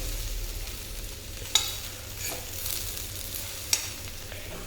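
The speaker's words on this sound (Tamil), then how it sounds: "அடுப்பை ஹையில் வச்சு ஒரு 3 மினிட்ஸ் நல்லா கிளறி விட்டுக்கலாம்." Potatoes fry on high heat in a pan for a simple potato varuval, a constant close sizzle running throughout, with two sharp clicks of a spatula stirring against the pan.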